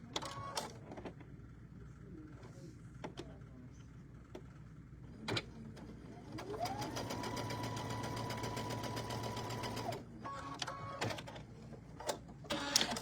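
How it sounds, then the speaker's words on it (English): A sewing machine stitches a tabletop banner in quick buzzing bursts, with one longer steady run in the middle and scattered clicks in the pauses, fairly quiet. "Stitch from the center out."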